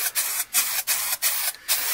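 Short hissing bursts of a spray can or spray gun repainting Vauxhall Tigra wheels, four or five passes in quick succession with brief pauses between, close by.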